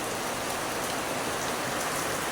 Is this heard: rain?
yes